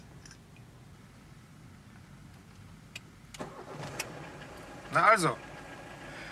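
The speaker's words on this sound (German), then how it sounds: "laufen tut der Motor ja schon mal" A car engine cranks and catches in a 1970s German driving-lesson scene, a quiet idle followed by a brief rev, with a person speaking over it.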